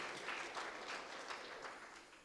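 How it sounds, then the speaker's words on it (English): A live audience applauds, a dense, steady patter of clapping hands that holds at a fairly loud level before tapering off slightly. "Give him a big round of applause for that."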